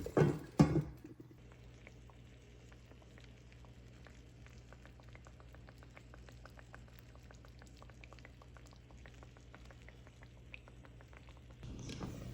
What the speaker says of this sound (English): we're gonna let that simmer for about 20 minutes, turning occasionally